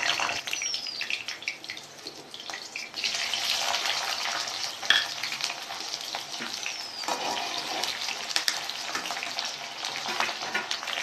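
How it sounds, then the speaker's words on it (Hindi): Chopped green chillies frying in hot oil, a soft continuous sizzle and crackle with occasional sharper spits, faint and close, with no voices. "तेल हमारा गर्म हो चुका है, अब इसमें मैं कटे हरे मिर्च डाल रही हूँ।"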